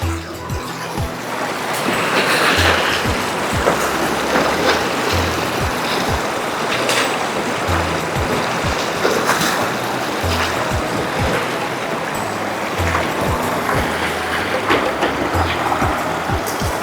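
A strong river current rushes past at a riverside picnic, a continuous, close, turbulent wash of flowing water with splashy bursts throughout and no letup.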